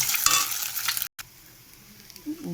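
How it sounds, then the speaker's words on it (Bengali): Egg dropped into hot oil for bhujia, a bright sizzle and spatter at first, then a short break and a quieter simmering hiss with a faint scrape. "তেলটা গরম হয়ে গেছে, এবার ডিমটা ছেড়ে দিচ্ছি।"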